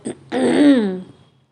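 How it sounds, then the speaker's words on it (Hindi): One deliberate throat clearing, a short catch followed by a longer rasping hum, close and alone against silence. "तभी उन दोनों के दरवाजे से किसी के गला साफ करने की आवाज़ आई।"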